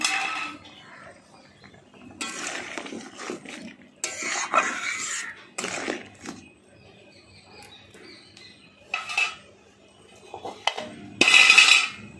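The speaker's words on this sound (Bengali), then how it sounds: "এবার আমি কাঁকড়াগুলো দিয়ে দিচ্ছি।" Sea crabs go into a pot of boiling spiced water in several separate bursts of clattering and splashing, with quiet gaps between them.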